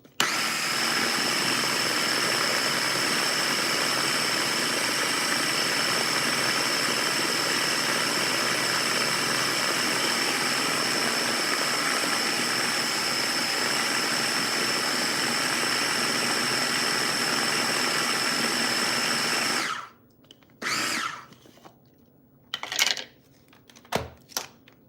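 A blender runs at full power for about twenty seconds, whirring loudly and steadily as it purees avocado chocolate mousse. It then cuts off abruptly, and a few short bumps and clatters follow.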